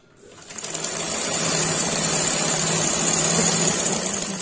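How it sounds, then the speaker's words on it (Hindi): A sewing machine stitches a lehenga panel with magji trim held straight along the edge, running as a steady, close, continuous whir after a brief start, with no talking. "तब सिलाई करेंगे इसमें।"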